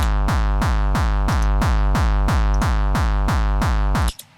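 A punchy electronic artcore kick drum, highs boosted with a Decapitator, hits in a steady, fast pulse, about fourteen times, each thump bright with crisp top end, ending abruptly.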